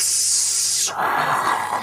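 A ray of frost spell strikes a smouldering creature in a tabletop fantasy roleplaying session, giving a loud, sharp steaming hiss that shifts midway into a lower, rushing spray of steam, with no talk over it.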